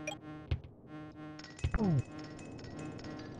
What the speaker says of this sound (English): There's a bee nearby.